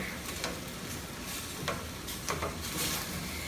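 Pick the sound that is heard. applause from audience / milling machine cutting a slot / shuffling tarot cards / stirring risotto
stirring risotto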